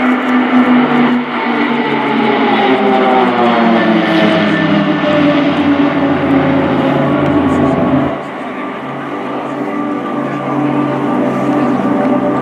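Swiss Air Force Pilatus PC-7 propeller trainers pass in formation at an airshow with a loud, sustained engine drone whose pitch slides as the aircraft go by. A commentator's voice runs over it.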